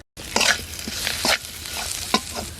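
Spice paste of green chili, turmeric, chili powder and salt with a splash of water being stirred in a pan, a few scraping strokes of the spoon over a low sizzle, no voices.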